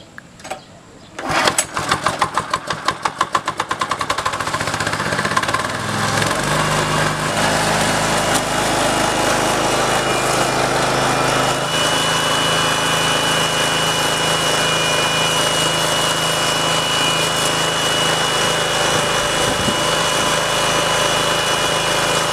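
A coconut shell charcoal grinding machine starts with a rapid sputtering burst, then settles into a loud, continuous engine roar that holds steady to the end.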